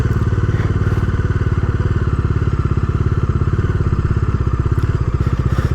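A Bajaj Dominar 250 motorcycle rolls along in second gear with no throttle, its engine chugging in a fast, steady low pulse, loud and close throughout.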